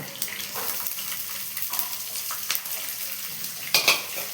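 Green chillies and ginger sauté in a hot pan for rava kichadi, giving a steady soft sizzle with occasional stirring scrapes and a brief utensil clink near the end.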